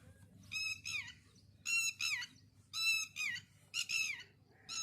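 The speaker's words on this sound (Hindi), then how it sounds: "यहाँ का एक पक्षी है, ज़्यादा बोलता है ये" An outdoor local bird repeats a loud, ringing two-part call about four times at a steady pace against a low background hum, with no talking.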